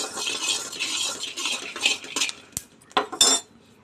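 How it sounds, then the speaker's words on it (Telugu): Peanuts dry-roasting in a pan over a low flame: a rattling, gritty scrape of nuts being stirred comes in uneven bursts, with a couple of sharp metallic knocks near the end, close up. "పల్లీలు లో ఫ్లేమ్లో వేయించుకోవాలి అలాగైతే మంచిగా వేగుతాయి"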